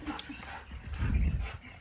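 A herding dog at play gives short yips and whimpering cries, a couple of quick, close bursts that end in a louder, throaty bark-like sound.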